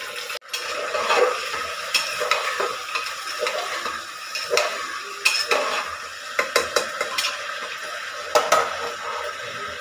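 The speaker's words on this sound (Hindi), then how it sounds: "आलू और मटर को पहले अच्छे से भून लेंगे" Potatoes and peas fry in a pan, a steady sizzle under repeated clinks and scrapes of a spoon stirring against the metal, with sharper knocks toward the end.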